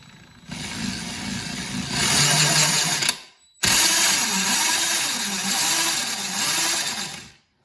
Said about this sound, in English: those gears do not sound lovely